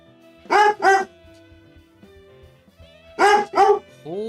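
A dog barks indoors in two quick pairs of sharp, loud barks separated by a pause, followed by a short higher yip at the end, with no talking.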